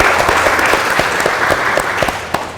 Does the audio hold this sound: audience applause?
yes